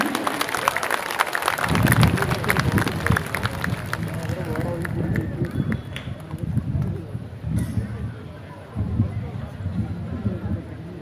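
An audience applauds a singer at the Subhash Sangeetanjali music concert: a dense, sustained wash of clapping and crowd noise that swells near the start and continues unbroken to the end.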